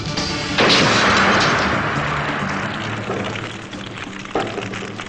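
A light bulb filled with gasoline explodes when a desk lamp is switched on, a loud close blast with a rumbling roar that slowly fades, followed by a smaller thump near the end.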